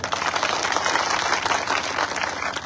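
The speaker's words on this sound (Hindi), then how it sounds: "तो सारे लोग ताली बजाओ" A crowd at an outdoor political rally in Raghogarh claps in a brisk, dense burst, many hands close and loud, with no voices over it.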